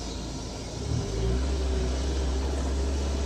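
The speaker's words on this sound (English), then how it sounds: "sorry for the horrible sound that is my Civic" Honda Civic with a straight-piped exhaust and a ripped muffler revving, a deep droning rumble that swells about a second in and holds at a loud, steady level.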